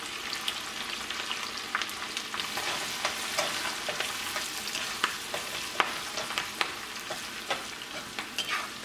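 Curry leaves hitting hot oil for rava pongal, with ginger and green chilli already in the pan, crackling in a steady sizzle broken by sharp pops and the scrape of a stirring spoon throughout, close up and without talk.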